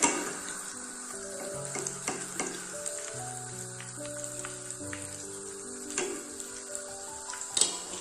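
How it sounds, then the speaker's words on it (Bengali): Stuffed potatoes slowly frying in oil give off a steady close sizzle and crackle with scattered sharp pops, over soft background music and no talk. "বেশ ধৈর্য ধরে এটাকে ভাজতে হবে আস্তে আস্তে করে, তাহলে খুব ভালো হবে ভাজাটা"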